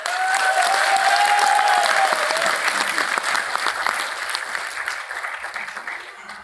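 An audience at a meeting in Kadi, Gujarat breaks into loud, sustained clapping that holds steady for several seconds before gradually thinning out.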